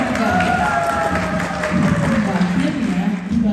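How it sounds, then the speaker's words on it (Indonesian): Audience applause at a school award ceremony staged in a musical theater production, a sustained wash of clapping with tonal sounds and murmuring voices mixed in throughout. "Tepuk tangan terdengar setiap kali ada siswa yang maju berprestasi."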